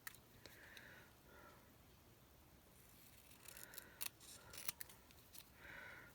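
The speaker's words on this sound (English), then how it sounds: "So I'm going to cut this as close down as I can so that it will fit on that label." Scissors cutting out a small sticker up close, a series of faint quick snips and paper rustles in a quiet room, no talking.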